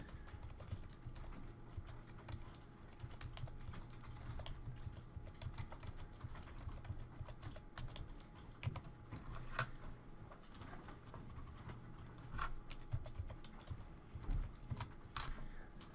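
Keys tapped on a computer calculator or keyboard while entering figures for a debit column of an accounting exercise, a steady patter of soft close clicks running throughout with no talk.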